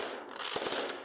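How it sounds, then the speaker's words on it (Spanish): Fireworks are launched during a wake: a dense, crackling roar of pyrotechnics with a few sharper bangs in the middle, loud and continuous with no talking. "empiezan a lanzar los fuegos artificiales"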